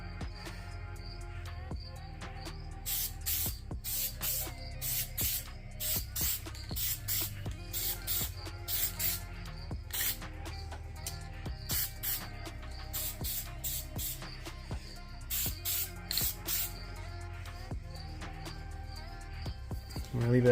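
A Ford F150 gets a coat of spray paint in a series of short hissing bursts, repeated in uneven clusters with brief gaps between them, each spray fairly close and crisp.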